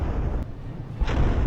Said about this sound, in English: That was a pretty hefty hit to the frigate by the Daemon there.